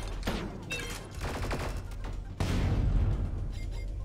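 Rapid minigun fire from a weapon in the sci-fi shooter game Sublevel Zero, a loud continuous burst of close shots that swells heavier about halfway through and keeps hammering to the end with no voices.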